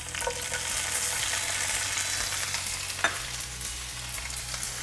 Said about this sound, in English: Now I'm adding chopped ginger.